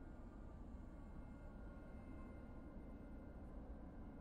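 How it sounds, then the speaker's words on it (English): Tanker aircraft taxiing in the DCS World flight simulator; a steady, faint, distant jet engine drone with a constant broadband rumble, unchanging throughout, with no other sounds over it. "Tankers taxiing."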